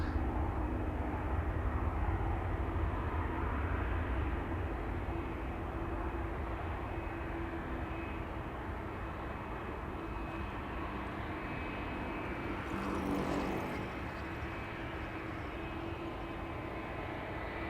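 An Air France Bombardier C-Series 300 at Amsterdam Schiphol Airport fills the scene with a steady, broad jet engine roar that swells slightly and fades a little, with no talking.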